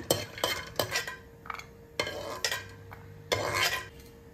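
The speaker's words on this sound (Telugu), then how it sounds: "కొద్దిగా ఎండు కొబ్బరి కూడా వేయించుకోవాలి." Dry coconut roasts in a dry pan for egg masala, with a spatula scraping and stirring in repeated bursts and a faint sizzle underneath. Close and clear, with no talk.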